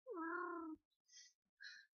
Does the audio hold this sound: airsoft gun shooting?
no